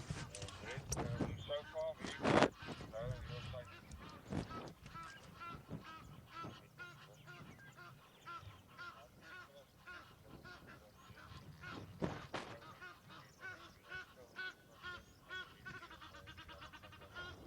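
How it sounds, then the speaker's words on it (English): Egyptian geese honking and calling noisily outdoors at a dam at sunrise on a safari, loud harsh cries overlapping in a busy chorus with other birds. "Why are these Egyptian geese being so noisy?"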